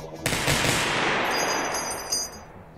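Gunfire from a weapon in the video game Receiver, one sharp loud shot followed by a long ringing burst of noise that slowly tails off.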